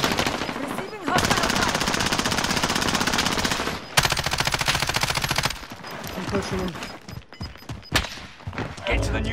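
Rapid automatic gunfire from a first-person battle royale game blasts in long sustained bursts, broken by brief gaps and a final scatter of lighter shots and thuds, with voices talking over parts of it.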